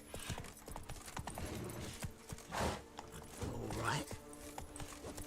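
Roach the horse's hooves clip-clop at a run in The Witcher 3, fairly faint and mixed with game effects while someone speaks briefly.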